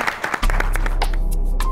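A studio audience claps briefly for a singer on a comedy talk show, a short burst of scattered clapping that gives way to a sustained low musical hum.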